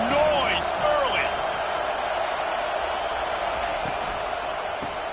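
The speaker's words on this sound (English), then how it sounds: "This crowd bringing the energy and noise early." Crowd at a Florida State college football game against Tennessee roars in a dense, sustained wash of noise, loud and steady throughout with a few faint whistles or shouts rising above the din.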